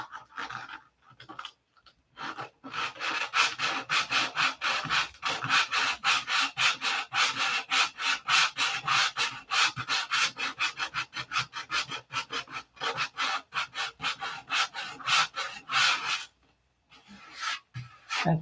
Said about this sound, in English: So the trick is to sand that white out and blend the superfill in to the wood